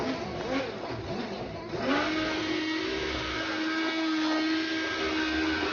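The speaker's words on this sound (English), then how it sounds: "with a blender, we will blend this soup" A blender whirs loudly and steadily through hot roasted tomato and pepper soup, its motor pitch rising and settling into a constant hum, close by with no talking.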